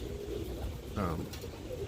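Roller pigeons coo softly in a loft, a brief low throaty call rising near the middle, faint under a quiet background.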